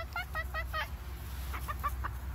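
A hen clucks in two short runs of rapid, throaty notes, close by, over a low steady background hum.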